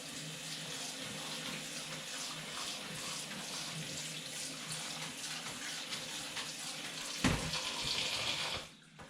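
Cold water from a kitchen tap pours steadily into a pot for a rice salad, a continuous close splashing rush that swells briefly near the end before cutting off.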